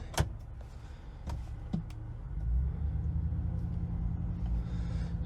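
2019 Chevrolet Silverado pickup shifted into drive: a few sharp clicks and a thunk from the cabin, then a low, steady engine and rolling rumble building up as the truck moves off.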